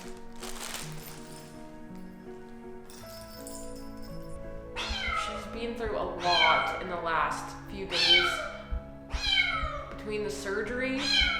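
A Bengal kitten on its first day in a new home meows repeatedly in loud, insistent, drawn-out cries that grow more frequent, close to the listener, with a few quiet background sounds in the first seconds.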